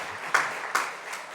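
Church congregation applauding a pastor during a service at a Korean church, a soft, steady patter of many hands with a couple of brighter swells, moderately distant and alone without voices.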